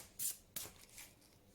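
A deck of tarot cards being cut gives a couple of soft, brief card swishes and flutters, faint and close, with quiet rustling after.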